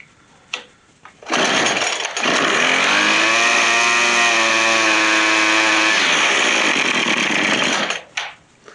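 A Cub Cadet BC280 brush cutter's small two-stroke engine revs up loud and steady for about seven seconds with the throttle squeezed, a buzzing whine with strong harmonics, then drops back to idle at the end.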